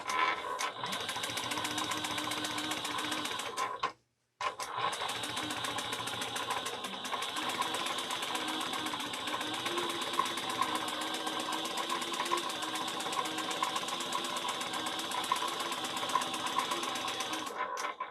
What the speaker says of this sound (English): so we're going to top stitch this at 1/8 of an inch.